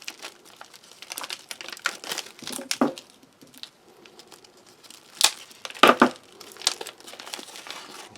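Close, crisp crinkling and tearing of plastic wrap around vacuum-packed rye bread from a Latvian army combat ration, in irregular bursts that peak into louder crumples near the end.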